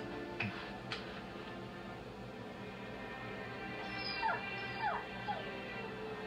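A trained service dog whimpers in several thin, rising whines spaced a few seconds apart, over a steady background hum with a couple of faint taps.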